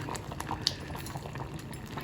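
A pot of lentil dish with karamani and moong dal simmers toward a boil, giving a faint, steady bubbling with small irregular pops.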